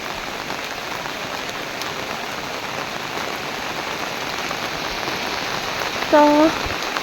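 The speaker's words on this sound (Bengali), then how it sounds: "বৃষ্টি পড়তেছে অবশ্য" Steady rain falls outdoors, a dense even hiss of drops on surfaces lasting throughout at moderate level, with a brief louder bump near the end and no talk.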